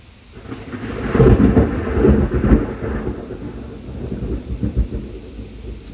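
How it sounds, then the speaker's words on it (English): A loud, deep rumble of thunder rolls through, swelling and then fading into lower rumbles with no voices. "that was a loud ass thunderstrike"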